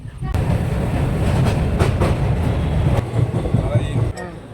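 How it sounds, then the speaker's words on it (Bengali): Rumble and rattle of a moving train heard from inside a carriage on the way to Bolpur, steady low roar with occasional clanks, easing off near the end. "তো আমাদের ট্রেন ছেড়ে দিয়েছে"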